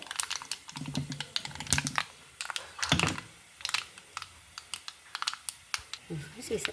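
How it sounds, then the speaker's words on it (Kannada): Mustard and fenugreek seeds splutter in hot sesame oil while tempering for onion sambar, giving a run of sharp irregular crackles and pops close by, with a voice talking at times. "ಸಾಸಿವೆ ಮತ್ತು ಮೆಂತೆ ಲಾಯಕ್ ಹುಟ್ತಾ ಇತ್ತು"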